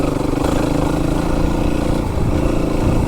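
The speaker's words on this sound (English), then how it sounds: "Good thing about motorcycles is people can hear you." Motorcycle ridden along an overgrown country lane near St Albans, its engine a steady, loud, continuous drone with low rumble and no pauses throughout.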